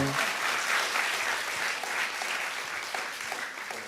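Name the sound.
audience applause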